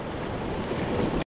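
Small sea waves breaking at a rocky shore under calm conditions, a steady close wash of surf and spray with rough wind noise throughout, ending abruptly.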